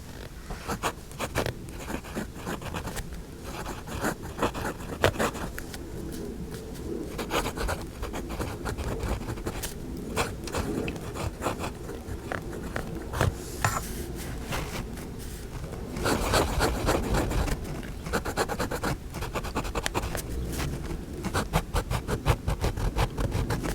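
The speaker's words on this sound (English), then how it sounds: "Enough talk. Time to write." A Kaco Edge brown fountain pen writes across paper in steady, close scratchy strokes, continuous and alone with no talk.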